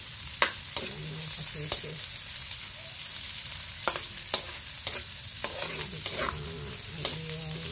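Tomatoes go into a hot frying pan and get stirred, giving a steady bright sizzle with periodic utensil clicks and scrapes against the pan; a voice speaks briefly in the background.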